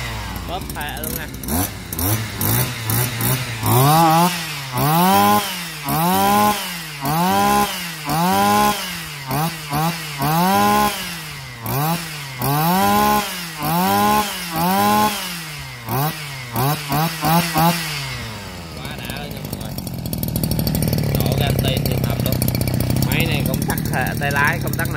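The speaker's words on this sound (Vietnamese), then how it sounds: "máy này hiện đã làm nổ rồi, nên giật thử mọi người xem nha" A Shindaiwa 270 brush cutter engine revs in a long run of repeated surging bursts, each throttle blip rising and falling about once a second, then settles into a steady, high-pitched running whine, loud and close.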